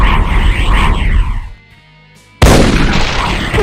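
An Archvile variant in a Doom mod hurls spreads of firebolts, loud whooshing roars and booms. A dense burst is followed by a short lull, then a sudden, heavy blast that swells and stays loud.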